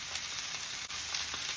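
A steak sizzles and fries steadily in a hot pan, with a continuous close, bright crackle and small spits but no talking.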